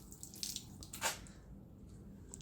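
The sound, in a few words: water poured from a glass onto a waxed car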